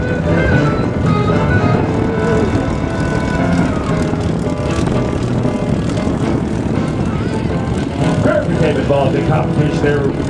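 Propeller-driven aerobatic airplane, a competition aerobatic plane, performing at the Durant, Oklahoma airshow; a loud, steady engine roar fills the whole stretch with shifting pitch as it maneuvers, while a voice speaks over the crowd.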